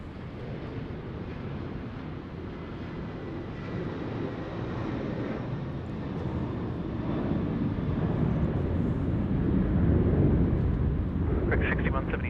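Aircraft taking off at night at Sydney Airport, a broad roar steadily building in loudness over several seconds, heard from a distance with faint radio chatter underneath.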